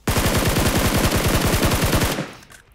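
Rapid automatic gunfire in the mobile battle-royale game PUBG Mobile: about two dozen shots in a fast, even burst lasting around two seconds, then a short fading tail. The shots are loud and close, with no talking.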